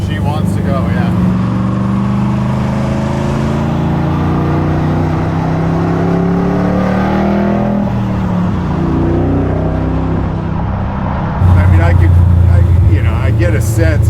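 A garage-built square body Chevy truck making 600 wheel horsepower roars loudly and continuously as it accelerates, the engine note rising and surging near the end, with someone talking over it.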